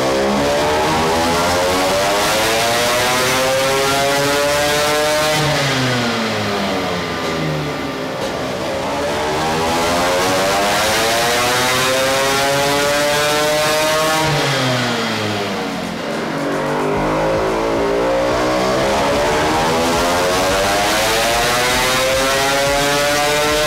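A small tuned Vespa scooter engine of about 40 hp revs hard and steadily on a dynamometer, rising and falling in long sweeping cycles, loud and close, with no talking.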